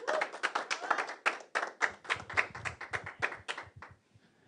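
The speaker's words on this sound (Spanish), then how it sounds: "vamos a darle un fuerte aplauso al Señor" Sparse, distinct hand claps ring out in a church, a handful of people clapping in loose rhythm before thinning out and fading to quiet near the end.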